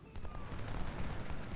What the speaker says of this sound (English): Hopefully, cannons will save the day